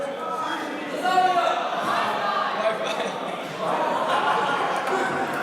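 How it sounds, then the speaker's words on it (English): Hackathon audience at a final demo event shouting out suggestions together, a dense overlapping crowd of voices that stays loud and steady throughout. "shout out what you might want next time"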